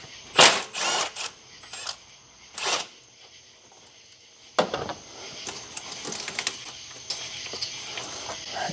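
A 12 mm wrench removes the slave cylinder bolts on a Honda Element FWD manual transmission, giving sharp metallic clicks and ratcheting bursts close by. Quieter stretches sit between them, followed by a longer scraping, clattering run.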